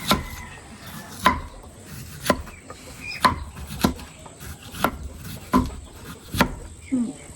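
A knife chops bamboo shoots into thin slices on a wooden board outdoors in a rural hillside setting, sharp evenly spaced strikes about once a second, close and crisp, while someone talks between cuts.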